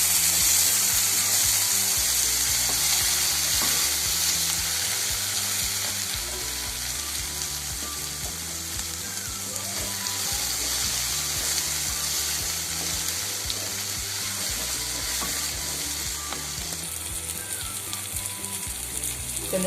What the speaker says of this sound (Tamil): இப்போ தக்காளி போட்டுக்கலாம். இதையும் நல்லா வதக்கிடுவோம்.